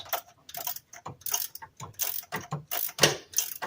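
A hand ratchet clicks rapidly in quick repeated strokes while tightening down the intake on a 2008 Dodge Charger, close and crisp with no talk.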